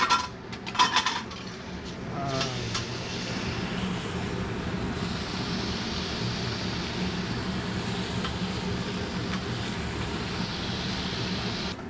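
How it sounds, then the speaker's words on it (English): Bacon sizzling on a restaurant griddle, opening with a few metallic scrapes and clatters of a spatula as it is flipped, followed by a steady, hissing fry that holds at an even level. "We're gonna flip the bacon."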